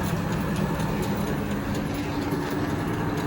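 An engine lathe running with its change gears engaged in a shop, giving a steady, loud mechanical hum and whir with continuous gear rattle, unchanged for the whole stretch.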